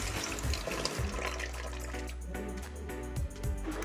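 Tap water runs steadily into a kitchen sink while fish are being rinsed clean, a continuous close splashing stream with small bumps of handling and no talk.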